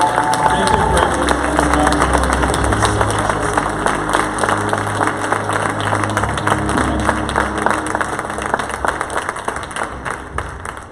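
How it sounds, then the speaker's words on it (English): Conference audience at a San Diego event clapping for speaker Jesse Stewart as he is brought on stage, a dense, sustained round of applause filling the room with some crowd murmur underneath, steady and loud throughout. "let's give him a round of applause"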